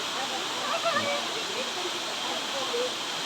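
A mountain stream on Sathuragiri hill runs full after rain, a constant rushing hiss of water flowing steadily, with a faint voice faintly under it.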